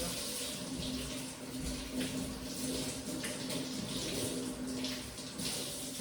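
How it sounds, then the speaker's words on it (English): Green and red peppers washed under a hot running tap, a close, continuous splashing stream of water with no talking. "So, you should wash them with hot water, because hot water kills all the bacteria."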